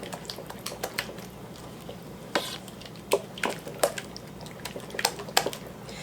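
Wet, squishy stirring and occasional clinks come from chicken casserole ingredients being mixed together in a bowl, intermittent and fairly quiet.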